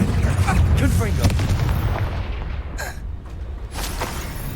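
The Confringo blasting spell explodes in the Hogwarts Legacy video game with deep, rumbling booms. Dense low-end game noise fades slightly, then sharp crackles follow.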